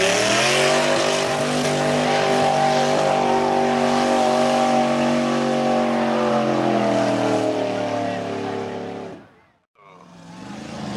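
A Ford-powered International mud bog truck roars loudly and steadily at a 1995 mud bog event, engine screaming at high revs for several seconds before briefly cutting out and surging back.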